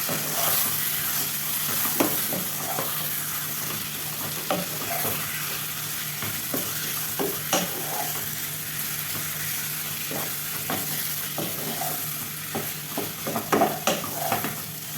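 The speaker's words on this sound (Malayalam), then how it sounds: "ഇനി നമുക്ക് ക്ലീനാക്കി വെച്ചിട്ടുള്ള ചിക്കൻ ചേർത്ത് കൊടുക്കാം. ചേർത്തിട്ട് നന്നായി തന്നെ മിക്സ് ചെയ്തെടുക്കാം." Chicken is stirred into masala in a pan for a chicken kurma, with a steady sizzle and repeated scraping stirs that are close and continuous, and no one speaks.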